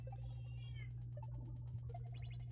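A cat meows a few times, fairly faint, over a steady low hum in a room during a gaming session.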